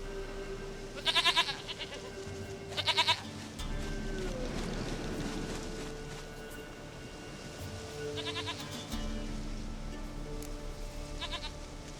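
Goat bleating in The Witcher 3 game: two bursts of quavering bleats early and two more later, fairly close and loud over a steady ambient background hum and music bed, no talk.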